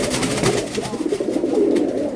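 Racing pigeons coo in a steady, close, muffled murmur for a couple of seconds, soft throaty calls overlapping with no talk.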